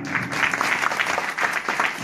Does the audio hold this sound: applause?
yes